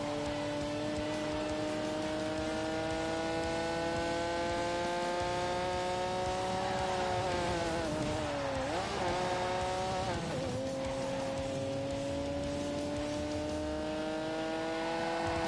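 A Porsche race car engine in The Grand Tour video game drones loudly and steadily at high revs, pitch dipping sharply twice as it brakes and shifts, then climbing again, with faint tire noise and no talk.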